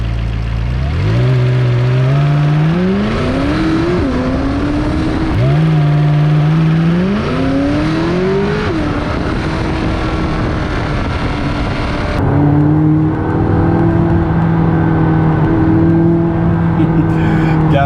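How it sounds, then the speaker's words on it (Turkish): A McLaren 570S engine revs up repeatedly through the gears, loud and close, then settles into a steady high drone. "Aracın motor sesi gerçekten mükemmel."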